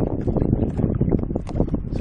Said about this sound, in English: Main lake is too windy